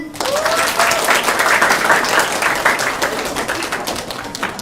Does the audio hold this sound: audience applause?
yes